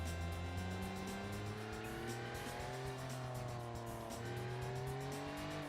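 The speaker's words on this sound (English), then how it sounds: "So this is meant to be two-stroke. Doesn't sound like a two-stroke." A two-stroke engine of a car in BeamNG keeps up a steady, buzzing drone for several seconds, with the pitch wavering slightly as it revs and holds.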